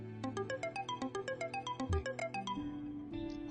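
A phone ringtone plays a bright, repeating melodic pattern of evenly spaced notes, close and clear, for several seconds before changing to a sustained tone.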